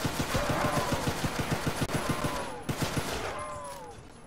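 Rapid automatic gunfire from the M3 gun in a Roblox zombie game rattles in a fast, even burst for about two and a half seconds, then resumes in shorter bursts, with faint game sounds underneath.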